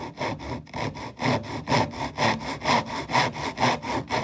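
A handsaw cuts down through wood toward a tenon for a hidden mortise and tenon joint in a handmade wardrobe, rasping in a steady, even rhythm of about two strokes per second at close range.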